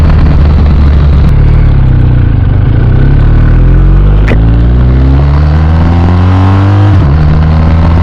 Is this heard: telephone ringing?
no